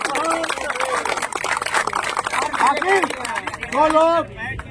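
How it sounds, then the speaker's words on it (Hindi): Applause rattles through an outdoor protest sit-in over teacher recruitment, a stream of dense, uneven claps. Voices shout and talk over it throughout. "तो एक बार जोरदार ताली हमारे संघर्ष"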